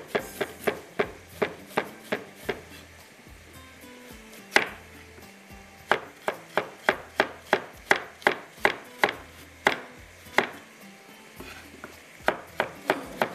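A knife chops carrots into small pieces on a board, making crisp rhythmic knocks in quick runs. Brief pauses separate the bursts, and the chopping is close and loud.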